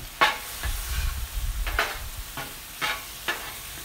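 Hamburger meat being mixed with salt and pepper on a Blackstone griddle: a low sizzle with several sharp spatula scrapes against the flat steel surface, close up and without speech.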